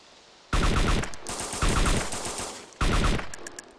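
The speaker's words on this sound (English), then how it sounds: "So many gunshots around me." Bursts of rapid gunfire crackle in three loud volleys, dense and close, with short pauses between them.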